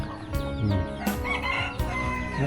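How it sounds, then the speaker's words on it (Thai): Chickens and ducks crowd into their pen, with close clucking and a rooster's crowing calls overlapping in busy bursts; no one speaks. "ยินเสียง เป็ดเสียงไก่ได้กำลังสิเข้าคอก"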